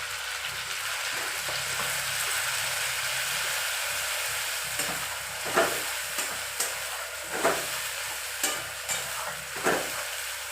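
Dried lote fish (Bombay duck) with onion-garlic paste frying in a pan, a steady broad sizzle with intermittent scraping stir sounds in the second half, close up with no voices.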